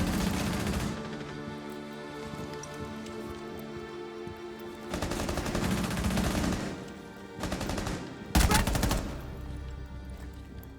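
Gunfire in Rainbow Six Siege, with long sustained bursts of rapid automatic fire broken by short pauses and one sharp loud shot near the end, dense and close.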